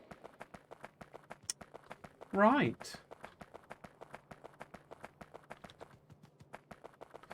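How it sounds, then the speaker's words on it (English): Rapid, evenly spaced footsteps from the video game Factorio, modded with Krastorio 2, patter loudly and continuously, briefly interrupted by a short rising synthetic sweep while someone says a word. "Now the footsteps seem incredibly loud."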